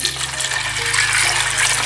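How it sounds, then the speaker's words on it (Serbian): Cold water poured over beans soaking in a pot overnight, heard as a steady, close, continuous rushing pour with no talk. "Sada nalivamo vodu"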